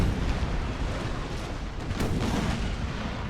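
Ship cannons fire in a naval battle in Napoleon Total War, heavy booms rumbling over one another in a constant low roar, with a sharper blast standing out partway through.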